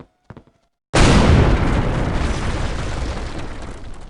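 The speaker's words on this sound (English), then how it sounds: "Bomb!" A bomb goes off in a James Bond video game, a sudden loud boom after a brief quiet stretch, then a long roaring, crackling rumble that slowly fades.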